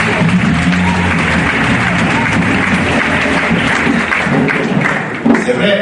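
An audience at an award ceremony applauds in sustained, dense, loud clapping that fills the whole stretch, with crowd murmur mixed in.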